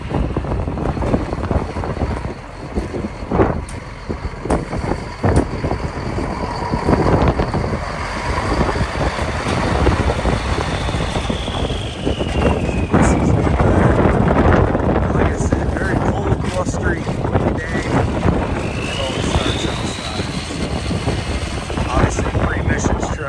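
A 1994 Mack CH613 truck with air ride suspension drives around a yard, its engine a steady, loud, broad rumble throughout, heavily buffeted by wind noise on the microphone.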